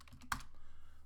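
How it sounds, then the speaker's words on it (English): A single close keystroke clicks sharply on a computer keyboard, quick and faint, followed by near silence. "If we type in moves again"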